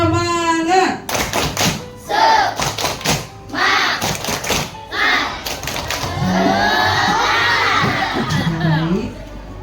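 A school class does the tepuk semangat clapping chant, with bursts of rhythmic clapping from the students mixed with loud shouting children's voices and cheering, close and energetic.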